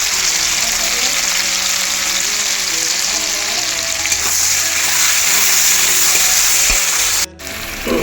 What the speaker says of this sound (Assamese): বিলাহী ফ্ৰাই হৈ আছে